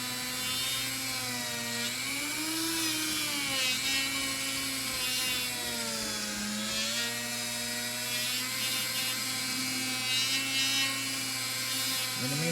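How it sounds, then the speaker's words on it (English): Steady high-pitched whine of a rotary tool polishing jumbo frets on a Fender Stratocaster neck, droning continuously with slight pitch wavering as the tool moves along the frets. "In the meantime, I'll keep polishing"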